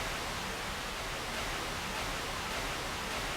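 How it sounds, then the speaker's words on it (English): A synthesizer's white noise signal routed as an FM source, producing a steady, uniform broadband hiss that holds constant and fairly quiet throughout, with no talking. "I'm using the white noise to act as an FM source."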